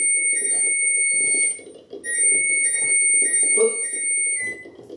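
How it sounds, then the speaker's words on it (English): Kitchen timer alarm going off while eggs boil, a loud close beeping tone in repeated bursts with a short gap before it resumes, over soft kitchen background noise. "Timer is off."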